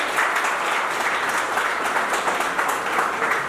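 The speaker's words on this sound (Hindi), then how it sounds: "जोरदार तालियों से स्वागत करें।" Steady applause from an audience welcoming a guest at a college workshop, a sustained wash of many hands clapping at moderate volume, heard from some distance.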